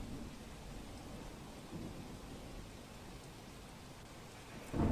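Steady rain falling in Keshod town, Gujarat, during the first monsoon shower after intense heat, a continuous hiss with low rumbling thunder underneath and a louder swell at the very end, with no voices.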